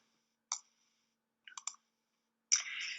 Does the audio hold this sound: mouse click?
yes